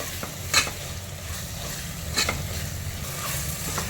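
Tomatoes soften in masala in a pan for vegetable pulao, a continuous low sizzle broken by a few scraping stirs of a utensil against the pan, close and moderately quiet.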